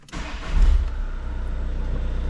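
A Volkswagen Caddy engine cranks and catches on restart, then settles into a steady, close, low idle.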